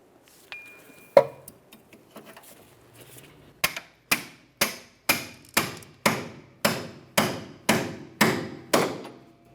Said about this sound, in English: To do this, you could use a pickle fork.